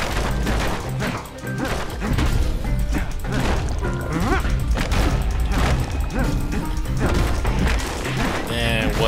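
Crashing and smashing of objects in a video game scrapyard, a dense run of loud impacts and clangs layered over busy game audio with faint talk.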